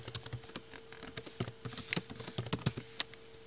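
Root password typed on a computer keyboard: a close, quiet run of uneven tapping keystrokes lasting a few seconds.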